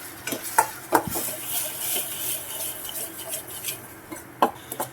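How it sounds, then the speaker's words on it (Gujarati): A spoon stirs spices — ginger, sugar, turmeric, chilli powder and lemon juice — in a pan for a puffed rice snack, giving soft irregular scrapes and a few sharper metal clinks close up, with no talking. "સારી રીતે મિક્સ કરી દઈશું."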